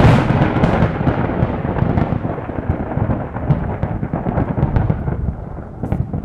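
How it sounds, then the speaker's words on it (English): A booming peal of thunder in a mountain storm rumbles loudly and continuously, a dense rolling roar with crackling bursts that slowly fades toward the end. "A booming peal of thunder shook the mountains, and there was a brief flash of lightning"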